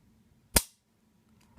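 A sharp metallic click from the double-action trigger of an unloaded steel-frame Jericho 941 pistol being dry-fired, a single crisp snap followed by a fainter click at the end.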